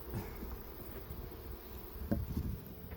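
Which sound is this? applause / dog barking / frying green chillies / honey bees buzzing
honey bees buzzing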